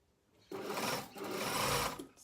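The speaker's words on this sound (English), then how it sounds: "Carry on sewing." A sewing machine stitches two overlapping pieces of fabric along a seam, starting abruptly and running steadily at close range with a brief slowdown in the middle, alone without talk.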